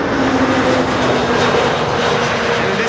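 An EasyJet airliner lands at Schiphol on the Kaagbaan runway, its jet engines giving a loud, steady roar that fills the whole moment without voices.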